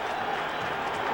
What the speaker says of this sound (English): What an energized crowd here now